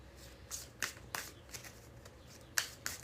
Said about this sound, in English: And we'll get 3 more shuffles.